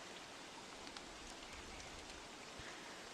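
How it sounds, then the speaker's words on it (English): Steady, soft rainfall in the video game Don't Starve hisses evenly throughout, a quiet continuous wash of drops with no voices. "you do get all of this rain"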